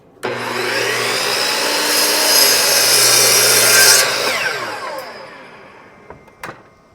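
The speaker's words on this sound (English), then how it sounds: "Cutting the same piece of wood." A power saw running off an Anker PowerHouse portable power station whines steadily through wood for about four seconds, then spins down, followed by a couple of light knocks.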